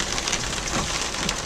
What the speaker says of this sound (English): It is hailing. It's hailing.